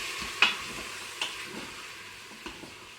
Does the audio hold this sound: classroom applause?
no